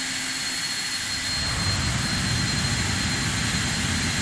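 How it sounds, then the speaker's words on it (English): A Carenado Citation II jet in a flight simulator deploys thrust reversers on landing. A loud, continuous engine roar swells noticeably partway through and holds steady, with no talking. "Oh, I hit the reversers too fast"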